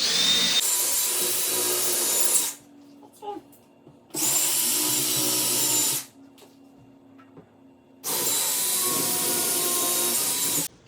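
Power drill boring pilot holes for an IKEA kitchen suspension rail, three sustained bursts of whirring with quiet gaps between, close and steady.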